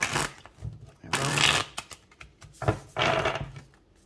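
Crisp riffling bursts of a tarot deck being split in half and shuffled, two main rounds with softer handling between, close and moderately loud with no talking.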